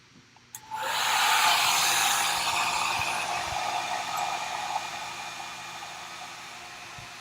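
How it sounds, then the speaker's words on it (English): A hair dryer switches on after a brief click and blows in a loud, steady whoosh that holds for several seconds and eases off slightly toward the end, with no voices. "we'll go back to the magic hair dryer"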